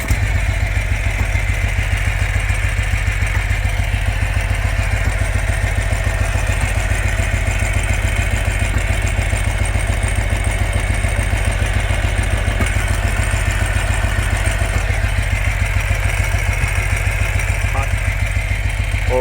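A one-cylinder motorcycle engine with swapped coil wires runs at a steady idle, its rapid even thumping and mechanical clatter continuing loud and unbroken throughout.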